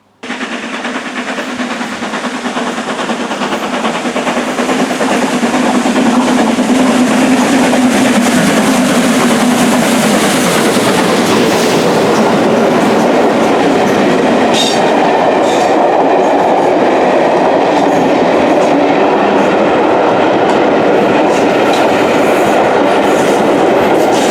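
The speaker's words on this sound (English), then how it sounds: "Let's get the steam locomotive passing through here." A GWR Castle Class steam locomotive in a train simulator game approaches and roars past, its rumble swelling quickly to a loud, steady rush with rhythmic clattering from the wheels over the track.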